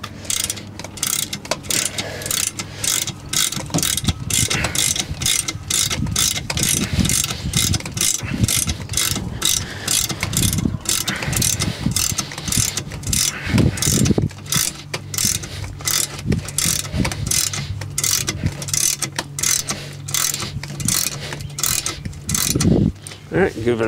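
A Starcraft popup camper's lift mechanism being hand-cranked, a rapid, steady ratcheting click with a low grinding hum underneath, close and loud, continuing without pause throughout.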